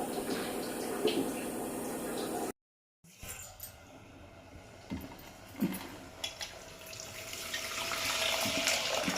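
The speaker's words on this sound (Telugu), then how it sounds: "కొంచెం ఉప్పు కారం బెండకాయకు పట్టిన తర్వాత చింతపులుసు పోస్తా." Tamarind juice pours into okra curry in a new clay pot, a watery splash and trickle that breaks off briefly and then resumes with soft sizzling and bubbling.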